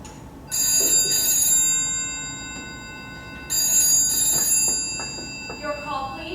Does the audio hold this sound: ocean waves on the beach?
no